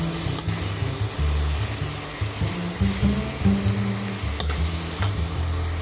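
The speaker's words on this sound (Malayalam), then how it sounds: "നമുക്ക് നല്ലപോലെ ഇളക്കി കൊടുക്കാം കേട്ടോ" Green chicken with salt being stirred in a hot pan, a continuous loud sizzle with a low, steady background hum and scraping stir sounds throughout, close by and without speech.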